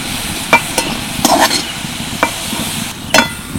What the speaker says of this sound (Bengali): অল্প একটু হলুদ গুঁড়ো আর সামান্য একটু নুন দিয়ে ভালো করে ভেজে নেব